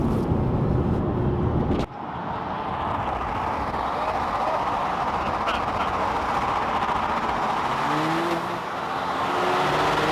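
Ferrari launching with launch control: a loud, steady roar of engine and road noise, close up, with a sharp shift around two seconds in and a continuous drone afterwards.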